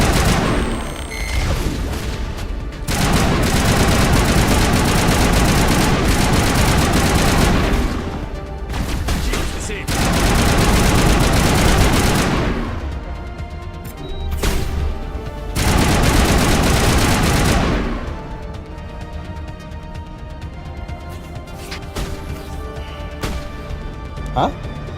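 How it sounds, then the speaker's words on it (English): Sustained bursts of automatic weapon fire and heavy blasts from a combat firefight in Mass Effect Legendary Edition, loud and dense in long stretches with brief lulls, with voices talking over the shooting. "What are you shooting at?"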